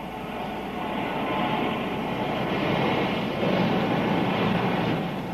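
A Big Boy steam locomotive is washed by a water shower in a 1959 railroad scene. A steady, dense rush of spraying water roars without a break, with no voices over it.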